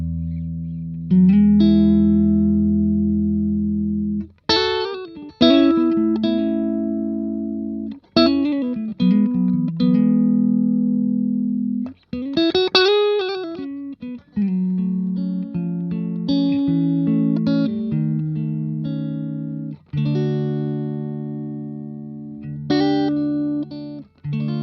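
Clean electric guitar notes and chords played through a Harley Benton G112 Plus cabinet ring out in separate phrases with pauses between them, warm and reverberant, with no talking.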